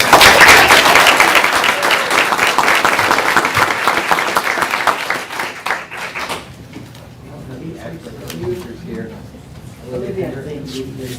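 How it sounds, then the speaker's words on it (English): Audience applause at a school board of education meeting, loud sustained clapping from a crowd for about six seconds, then fading into murmuring voices and room noise. "Let's give them a round of applause."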